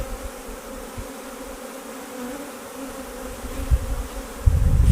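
Honey bees buzzing at an open, strong beehive during a split, a steady close droning hum throughout, with a louder rumble of handling at the end.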